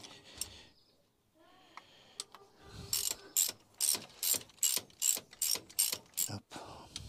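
A ratchet tightens bolts on a car engine during a glow-plug repair. After a few light metallic taps it gives about ten sharp, evenly spaced clicking bursts, close up and crisp, with no talking.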